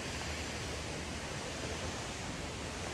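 Chedoke waterfall pours with an even, broadband rush of falling water, constant and unbroken with no other sounds over it.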